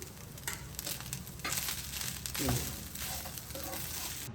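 Food being stirred in a pan with ghee gives a soft, continuous sizzle with scraping stirring strokes, fairly quiet and close.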